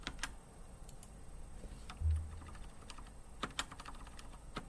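Keys clatter on a computer keyboard in a quiet room, soft close clicks in short irregular bursts with a few sharper taps, and no voices.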